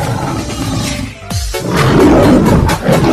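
A polar bear roars as a loud, close sound effect, a long deep growl that swells and rumbles and then repeats.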